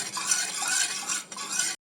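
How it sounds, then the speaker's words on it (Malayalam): A spoon scrapes and stirs roasted rice flour around a pan in quick continuous strokes, close and brief, with a short pause before it stops. "അടിക്ക് പിടിക്കാതെ നല്ലോണം ഇളക്കിയെടുക്കുക"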